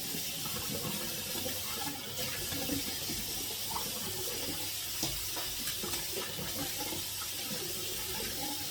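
Hot water runs steadily from a tap into a sink, a continuous hissing, splashing flow at moderate level with small bumps and knocks, no talking.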